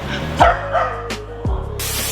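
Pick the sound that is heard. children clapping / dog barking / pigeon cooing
dog barking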